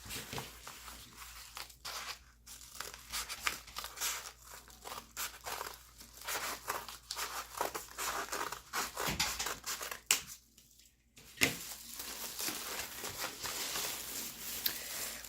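A shipped package wrapped in a plastic bag is torn and opened, giving quiet, close crinkling, rustling and tearing in irregular bursts with brief pauses, and no talk.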